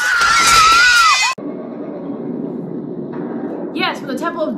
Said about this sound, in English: It sounds like that woman from Indiana Jones that constantly screams at every second of the scene.